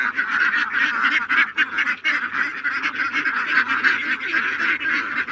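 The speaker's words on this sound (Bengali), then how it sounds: "সব হাঁস আস্তে আস্তে হাঁটিয়ে চলে আসতেছে" A flock of ducks walks home at dusk, a dense, continuous chorus of overlapping quacks and honks close by, with no pause across the stretch.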